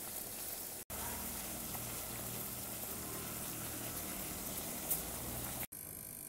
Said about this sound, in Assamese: এয়া মোৰ লেটা বইল হৈছে